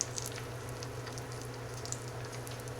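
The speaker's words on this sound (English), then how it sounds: "So let's throw this on the griddle. Let's let it fry up." A Monte Cristo sandwich frying on a hot griddle, giving a steady soft sizzle with scattered crackles and pops, close and continuous without talk.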